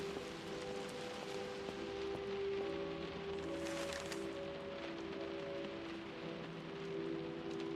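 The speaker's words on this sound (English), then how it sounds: "I love those sound effects. I love heavy rain." Heavy rain from the video game Close to the Sun hisses steadily throughout, with sustained tonal hums layered underneath and a brief brighter swell near the middle.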